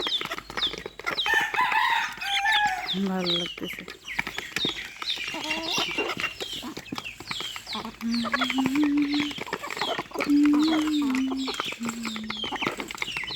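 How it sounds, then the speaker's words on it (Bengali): Chickens and roosters cluck and crow close by, busy and overlapping, while a person talks over them. "এই যে আরও আছে মোরগ"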